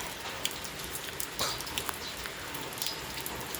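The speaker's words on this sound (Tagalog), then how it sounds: "Naulan." Steady rain falling in summer, a dense continuous patter of drops on surfaces with a few slightly sharper drips standing out, no voices.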